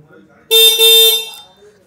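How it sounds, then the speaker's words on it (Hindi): A single loud, steady honk from a Honda Shine 100cc motorcycle horn lasting about a second, with a voice briefly audible before it. "मैं आपको हॉर्न एक बार सुना देता हूँ"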